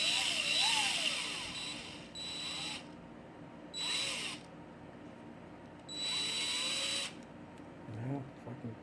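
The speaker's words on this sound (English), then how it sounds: "Stick it up in your drill." A power drill spinning a cut cotton swab whirs in several short bursts, a sustained high spin starting and stopping, with a voice speaking over the first part.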